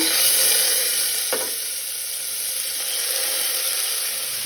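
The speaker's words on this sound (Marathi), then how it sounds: "तांदूळ मातशे परतून घेवया तुपात" Washed rice and moong dal sauté in hot ghee for khichdi, producing a continuous, even sizzle with a single brief knock of a stirring spoon, no talking.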